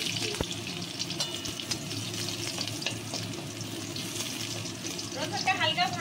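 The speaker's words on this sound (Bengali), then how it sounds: "রসুনটা হালকা ভাজা হোক" Garlic fries in oil with chilli and cumin, making a steady moderate sizzle with a few sharp pops and taps of stirring, and a voice briefly heard near the end.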